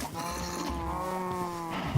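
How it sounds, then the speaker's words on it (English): A single drawn-out cow moo from the game Minecraft, moderately loud and close, lasting about a second and a half. "I'm gonna breed the cows."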